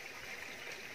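Stream water flowing in a rural creek in Palawan, a steady soft rushing and trickling hiss that stays even and fairly faint throughout, with no voices.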